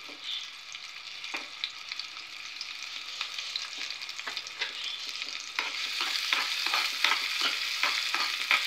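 Small onions with a little salt sizzle in hot groundnut oil in a pan, a steady fry with rhythmic scraping stirs that grow busier and louder toward the end, no talking.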